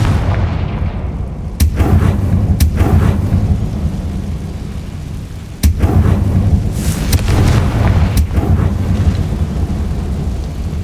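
Confringo blasting spell explosions in Hogwarts Legacy, a series of booming, thunderous blasts over a continuous rumbling game backdrop, with sharp impacts repeating every couple of seconds.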